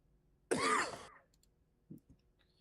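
One loud, sharp cough bursts out close by, followed by a couple of faint, brief sounds in a quiet room.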